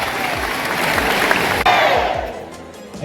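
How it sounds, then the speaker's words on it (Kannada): Schoolchildren at S.M. Naragonda school in Harugeri town clap loudly together, a dense sustained burst of applause from a crowded room that holds steady, then thins toward the end. "ಚಪ್ಪಾಳೆ, ಜೋರಾಗಿ ಚಪ್ಪಾಳೆ"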